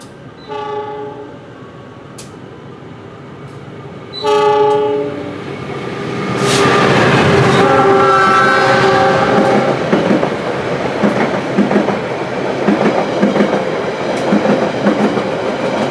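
The KA Pasundan train in Indonesia, between Tasikmalaya and Kiaracondong, sounds its horn twice, then rumbles past loudly and close with rhythmic clattering of wheels on the rails, continuing steadily.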